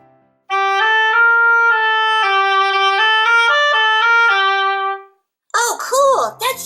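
A fully assembled oboe plays a clear, sustained reedy melody of several held notes at steady loudness, then stops briefly before voices speak.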